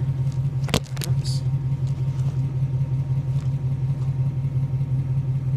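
A 1991 Toyota pickup fitted with a 1993 Lexus LS400 1UZ-FE V8 idles quietly and steadily, a low smooth rumble close by, with a brief clatter or bump near the start.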